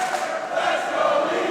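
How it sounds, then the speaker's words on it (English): A wrestling crowd at a WCPW Loaded match cheering for Jay Lethal, a steady, moderately loud wash of arena voices holding at one level without breaks. "Crowd here firmly behind Jay Lethal."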